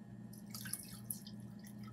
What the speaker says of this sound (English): And now I'm gonna fill up the rest of the container with water.